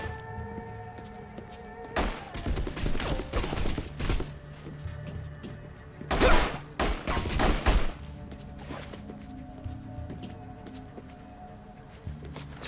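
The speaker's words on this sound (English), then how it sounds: "Stay here till the gunfire stops." Bursts of rapid gunfire crackle in two loud volleys in The Punisher video game, separated by a lull of low background rumble and scattered thuds.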